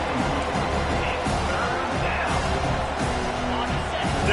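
Football stadium crowd cheering on third down, a dense, sustained roar that swells steadily and fills the background, with voices talking over it.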